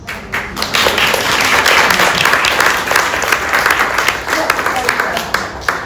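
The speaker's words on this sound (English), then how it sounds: "she's someone who deserves a big round of applause on that" Audience at a lecture on extended reality bursts into loud, sustained clapping from many hands, filling the room evenly for several seconds.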